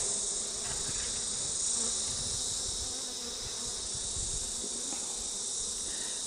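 Honeybees buzz steadily as brood frames are shaken over an open Flow Hive, a dense continuous insect drone close by with no talking.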